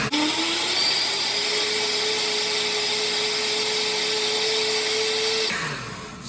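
A blender on its low setting grinds shake ingredients in a kitchen, a steady loud whir with a rising whine that holds for several seconds before the motor stops and spins down.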